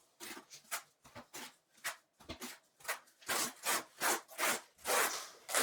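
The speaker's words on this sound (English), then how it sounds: "now I can start troweling on the notched side of my trowel" A notched trowel scraping thinset across a tile floor installation over Schluter Ditra, heard as a series of close, rasping strokes that start short and sparse, then grow longer and louder in a steady back-and-forth rhythm.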